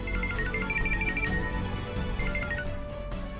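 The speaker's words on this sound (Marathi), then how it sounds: "अगं काय, किती वेळ रिंग वाजतेय?" A telephone rings repeatedly in a Marathi TV serial scene, a clear repeating electronic ring pattern over a dense background of music and room noise, fairly loud and continuous.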